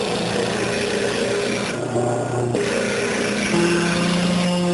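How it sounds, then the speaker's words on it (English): Steady grinding rasp of a stationary disc sander shaping the outside of a wooden bowl, continuous and close, with a constant motor hum and slight shifts in pitch as pressure changes. "A stationary disc sander or belt sander provides one of the easiest ways to sand the outside of the bowl."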